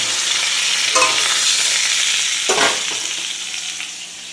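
Chicken fries in a pan with a loud, dense, close sizzle and a couple of brief stirring scrapes, easing slightly toward the end.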